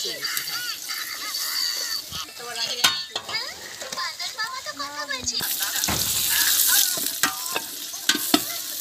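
Bay leaves and cinnamon sticks dropped into hot oil for bhuna khichuri, sizzling and crackling up close with stirring scrapes, and the frying swells louder partway through; people chat over it.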